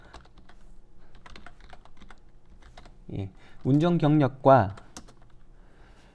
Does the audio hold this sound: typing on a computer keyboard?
yes